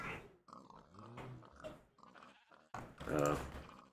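Several short, throaty grunts from a pig in Minecraft, played in the Skyfactory 4 modpack, come close and fairly loud in separate bursts with brief gaps between them.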